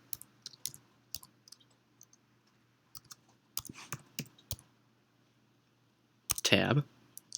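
Typing on a computer keyboard, with quick scattered key clicks in short bursts, some quiet gaps, and a denser flurry of keystrokes near the end.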